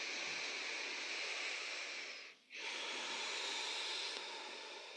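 Slow, steady breathing during a breath meditation, a long airy exhale-like hiss broken by a brief pause before the next breath, close and alone.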